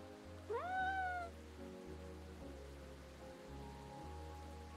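A cat from the indie PC game Calico gives a single rising meow over a steady soft rain-like ambience and low game music, clear and close.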